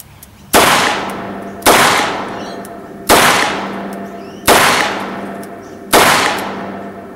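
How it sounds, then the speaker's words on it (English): Five loud, sharp revolver shots are fired slowly and evenly, about one every 1.3 seconds. Each crack rings out and fades with a short echo on an outdoor range. "it's better to fire a revolver that little bit slower"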